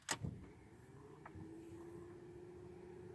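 A Ford Focus car starts with a quick cranking burst of the starter, then settles into a quiet, steady idle hum that continues faintly to the end.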